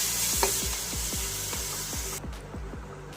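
Tomato puree cooks in a pan for kaju masala with a soft bubbling sizzle, punctuated by a regular series of low knocking thumps from stirring against the pan.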